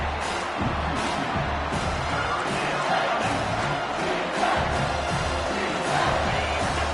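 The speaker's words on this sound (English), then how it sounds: "This crowd rising up, sensing that his defense needs some help." Stadium crowd noise in an NCAA college football video game, a steady roar of cheering that swells and rises across the whole stretch, loud and continuous with no clear talk over it.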